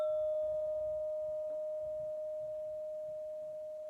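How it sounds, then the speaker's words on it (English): A single mindfulness bell is struck to open a meditation, its pure ringing tone sustained and slowly fading over several seconds in a quiet room. "Okay, here's a starting bell."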